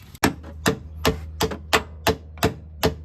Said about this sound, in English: Alright, we are hammering it back now.